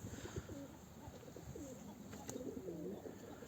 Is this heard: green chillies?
no